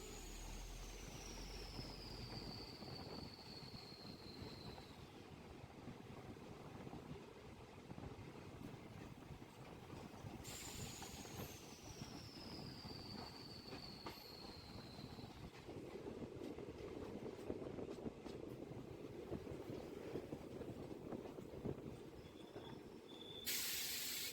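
A DEMU train's steady rumble and hiss fill a railway station at Jaysingpur, with high squealing tones sliding downward twice, like brakes easing in.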